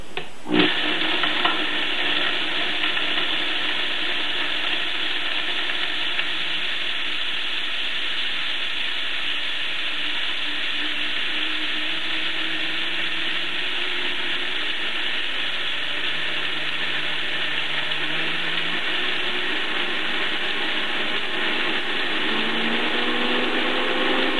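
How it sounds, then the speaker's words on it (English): A blender grinds dry ingredients for a vegan meat substitute into fine powder on a low setting, a loud, steady motor whir with a rattling grind that holds unbroken for over twenty seconds. "we're going to blend them until they are very, very fine, a powder basically"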